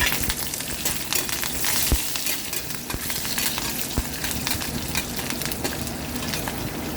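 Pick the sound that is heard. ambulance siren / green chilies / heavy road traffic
green chilies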